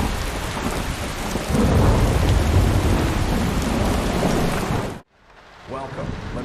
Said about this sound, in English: Out of nowhere, the rain started pouring heavily.